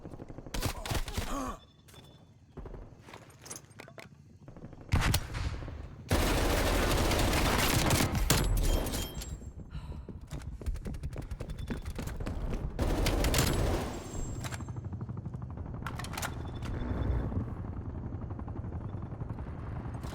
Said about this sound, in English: Get an attack helicopter overhead.